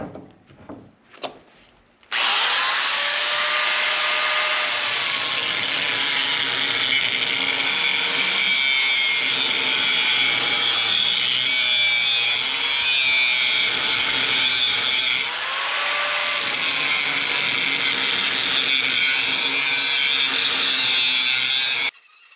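An angle grinder blade cuts through scrap transformers, making a continuous loud, close whine and grinding rasp with pitch dips as the load changes, after a couple of short handling knocks at the start.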